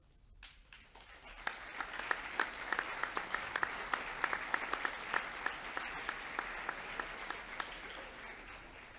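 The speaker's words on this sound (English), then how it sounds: "We might hold the applause to the end if that's okay, although it was lovely for Matthew." Audience applause at a Year 11 academic awards assembly, fairly quiet clapping that swells after a moment into steady, scattered hand claps with distinct individual strikes, heard alone without talk.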